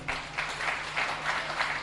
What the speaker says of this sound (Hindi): एक बार जोर से ताली बजाओ